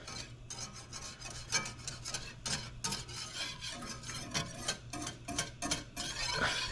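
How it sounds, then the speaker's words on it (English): Caramel is scraped down the sides of a pan for chocolate chip cookies, giving steady, close rasping and scraping strokes in quick rhythm with faint sizzle beneath and no talk. "You want to scrape that down."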